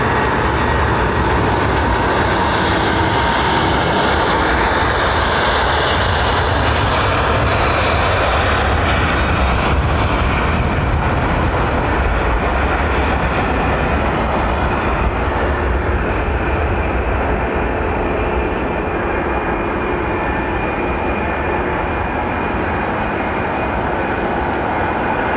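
A jet airplane at London Heathrow Airport roars loudly and continuously, a broad, steady engine rumble that swells and slowly fades over about twenty-five seconds, with no voices.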